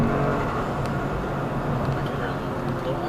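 A stock Toyota GR Corolla with an all-wheel-drive drivetrain and a drop-in air filter under full throttle, a steady loud engine drone heard from inside the cabin with no letup.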